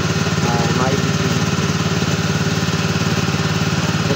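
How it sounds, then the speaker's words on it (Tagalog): A grass cutter's small engine runs steadily, a loud close buzzing drone with a fast regular pulse that holds without a break. "start na tayo mag-grass cutter"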